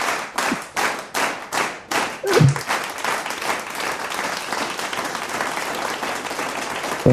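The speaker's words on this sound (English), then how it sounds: "let's give him a warm round of applause here" A studio audience applauds a guest arriving on a talk show, opening with a few sharp rhythmic group claps that swell into steady, close, sustained clapping.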